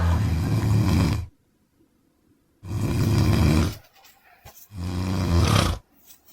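Loud, deep snoring from a sleeper, three long rasping snores separated by quiet pauses, each one close and rumbling, with no talking over them.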